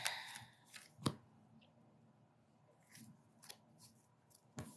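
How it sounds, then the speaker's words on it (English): Tarot cards being shuffled by hand in a quiet indoor setting, with a few sharp riffling bursts and soft slaps spaced irregularly across a few seconds, fairly faint and without talk. "I'm having a hard time shuffling"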